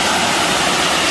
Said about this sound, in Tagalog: Maganda yung daloy ng tubig ngayon. Kasi, typhoon 3 pa ngayon guys actually. So, malakas ang tubig.